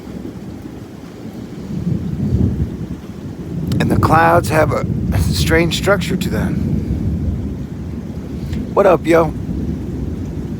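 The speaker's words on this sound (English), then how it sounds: "Rolling in with some constant, non-stop thunder. It just keeps on rolling and rolling." Low thunder rumbles through a Houston storm with rain and some wind buffeting the microphone, while someone talks over it in the middle and near the end.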